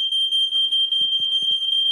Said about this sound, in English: you can also hear there's another smoke alarm in the house